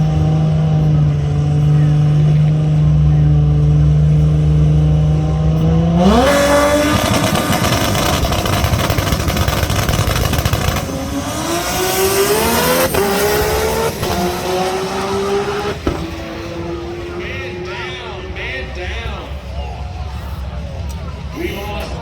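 Drag race cars roar close by at a motorsports park, an LT-powered Camaro among them, engines climbing in pitch and shifting through several gears at about 186 mph, with a commentator talking over the din.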